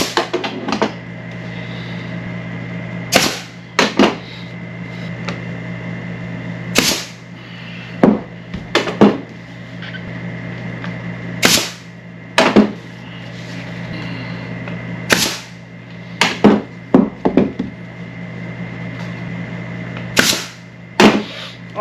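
Sharp, isolated nailing strikes while building a custom console for a 1967 car in a garage, loud single cracks spaced irregularly over a steady low hum, with occasional quick doubles.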